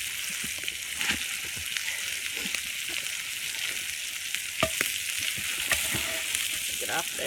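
Chopped vegetables frying in a pot over a campfire for country goulash, a steady bed of sizzling with soft stirring and scraping clinks throughout.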